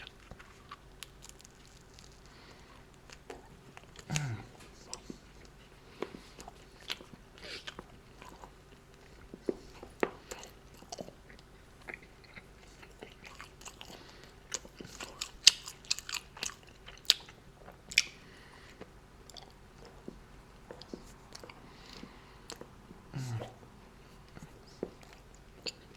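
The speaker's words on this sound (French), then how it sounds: "Et ensuite, on croque comme ça" Close, quiet bites and chewing of a bread and pork sandwich, with scattered soft crunches and moist clicks spread irregularly over a low, hushed background.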